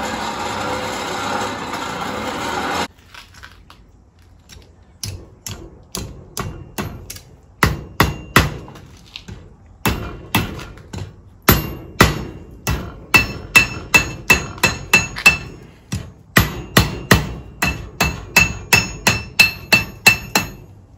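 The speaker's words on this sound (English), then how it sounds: "One of the squarest parts of my anvil is right here, so I'll work from the opposite side." A blacksmith hammers metal on an anvil, first a brief steady noise, then a pause, followed by sharp ringing strikes that speed into a fast, even rhythm of close, loud blows.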